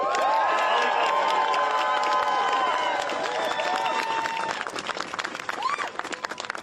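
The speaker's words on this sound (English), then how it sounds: "if we can have one last round of applause for Tasha Van Auken." Loud, dense applause with cheering and whoops from an outdoor crowd at a New York City mayoral event, steady throughout and thinning slightly at the end.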